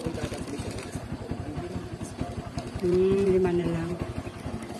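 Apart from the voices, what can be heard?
vendor's motorcycle engine left idling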